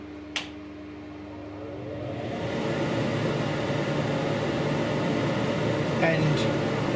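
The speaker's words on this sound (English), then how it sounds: "I shall now turn the extractor fan on." The extractor fan of a CNC laser cutter switches on with a click, then its broad airy whoosh rises over about two seconds and settles into a steady, fairly loud drone.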